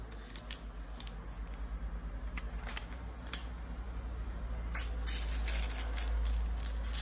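Scissors snip through paper close up, a quiet run of crisp cuts with brief pauses, over a low background hum.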